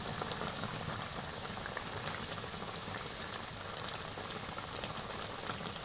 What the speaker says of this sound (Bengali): তো কড়াই দিয়ে দিয়েছি আর সবটাই আমি এরকমভাবে ভেজে নেব।